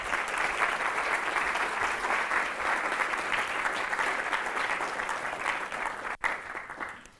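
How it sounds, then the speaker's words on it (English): Lecture audience applauding a University of Oxford professor, a dense, steady wash of many hands clapping from a large crowd that holds its level before tapering off near the end. "Round of applause"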